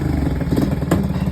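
A 1971 Honda SL70 motorcycle, light ruby red, runs after a cold start, its small single-cylinder engine putting out a loud, close, steady putter with a brief clattery rise.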